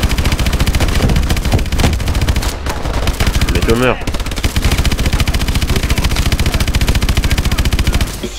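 Rapid machine-gun bursts and heavy weapon fire from a mech's main cannon hammer continuously in a Call of Duty Advanced Warfare battle, loud and relentless, with a short rising whine midway and a brief spoken line over the din.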